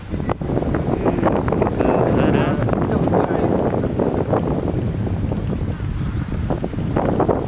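Strong wind blows hard across a hilltop at Kanchangadi, Nepal, a loud continuous rumble buffeting the microphone throughout with no pauses.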